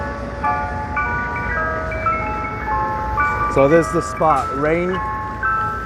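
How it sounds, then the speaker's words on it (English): An ice cream truck's jingle plays on a street in Jackson Heights, Queens, New York City, as a steady, tinkling melody that continues while someone talks over it. "There's the ice cream truck"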